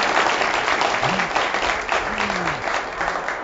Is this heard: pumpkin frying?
no